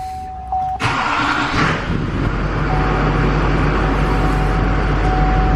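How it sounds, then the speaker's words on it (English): A Duramax LLY diesel pickup engine cranks briefly and fires, then settles into a loud, steady, close diesel idle with a constant rumble. "start her up."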